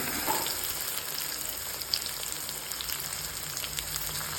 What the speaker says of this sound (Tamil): எண்ணெய் ரெடி ஆனவுடனே கடுகு போட்டுருங்க.